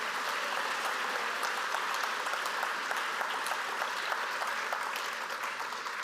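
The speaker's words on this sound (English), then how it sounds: "Please join in a showing of applause again for all these Golden Hawks and community" Steady, full applause from a large audience at a high school senior awards night, an even wash of many hands clapping at constant loudness throughout, with no voices breaking through.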